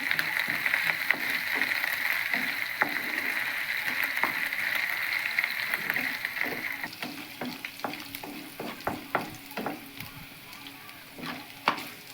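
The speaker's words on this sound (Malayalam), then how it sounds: "ഇഞ്ചി വെളുത്തുള്ളി നന്നായിട്ട് മൂത്തിട്ടുണ്ട്" Ginger and garlic fry in oil in a pan for a mango pickle, giving a steady close sizzle with repeated scraping and clinking as the mixture is stirred, the stirring sharper and more frequent toward the end.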